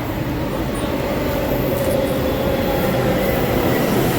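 A metro train arrives at a station with a loud, steady rumble of wheels on rail and a faint high squeal running throughout, close and continuous without talk.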